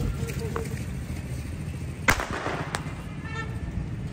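Firecrackers go off outside in the run-up to Shab-e-Barat: one sharp, loud bang cracks out midway, followed by a fainter pop, over a steady murmur of background noise.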